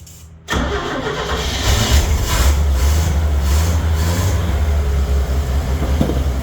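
An old vehicle parked in a newly bought shed cranks and catches, then its engine settles into a loud, steady rumbling idle that runs without pause to the end.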